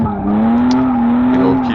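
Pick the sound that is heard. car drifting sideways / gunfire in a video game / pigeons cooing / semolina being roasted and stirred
car drifting sideways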